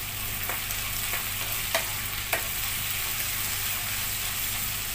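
Tomatoes and broad beans sautéing in a pan for an avarakkai kara kuzhambu, giving a constant close sizzle broken by a few sharp spatula clicks, with no talking.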